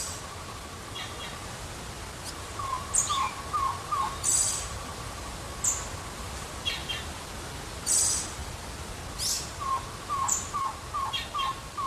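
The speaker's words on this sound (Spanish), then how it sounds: "podrá descubrir entre las ramas el tocororo, el pájaro nacional de Cuba" Tocororo, the Cuban national bird, calling among tree branches: repeated short clear call notes in small groups over a soft outdoor background, moderately near.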